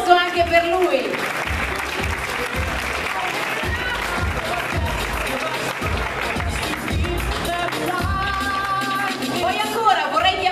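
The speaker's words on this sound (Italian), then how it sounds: "Un grande applauso anche per lui." Applause at a dance gala awards presentation, continuous crowd clapping beneath music playing throughout, with a voice heard over it near the start and again toward the end.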